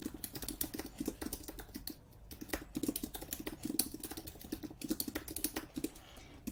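Rapid keystrokes on a computer keyboard while the days of the week are entered into a Notion setup, a steady close clatter of many quick taps with brief pauses between words.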